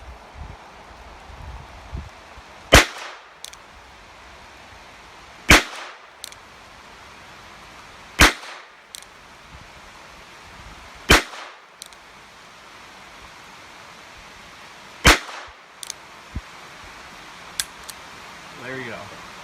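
A Charter Arms Pathfinder revolver fires Remington .22 short Golden Bullet rounds outdoors at a bench: five sharp, loud cracks spaced a few seconds apart over light wind and background hiss.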